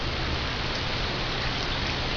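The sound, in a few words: pouring brine into a jar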